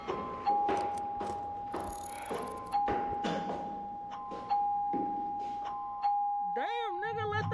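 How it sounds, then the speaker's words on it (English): A loud doorbell chimes in repeated ding-dong pairs at a party, the tones ringing out in even intervals over background music, with a voice breaking in near the end. "Why can I hear the doorbell all the way up here?"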